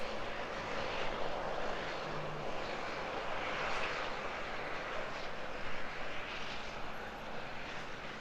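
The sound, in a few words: small Kiwi Air propeller plane arriving at Auckland Airport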